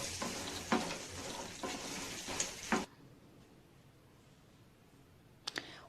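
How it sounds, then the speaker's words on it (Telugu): Vegetables sizzle in a pan with tempering spices as a spatula scrapes and stirs for about three seconds, then it goes quiet, with a couple of light clicks at the end. "ఇప్పుడు కలుపుకుందాము అంతా కలిసేటట్టు"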